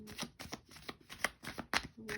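Tarot cards being shuffled by hand, a rapid series of riffling, flapping bursts repeating roughly every quarter second, close and fairly soft, with no talking.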